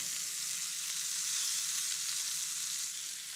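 A roughly inch-thick pork chop sears in a hot pan, giving a steady, close, even sizzle and frying hiss with no pauses and no voices.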